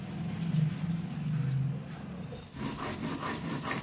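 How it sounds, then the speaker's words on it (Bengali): Mustard seeds ground by hand into a fine paste, a rhythmic scraping and rubbing of stone against stone that runs in steady strokes, fairly quiet and close, with a brief pause near the end. "দেখো এরকম মিহি করে আমি বেটে নেব।"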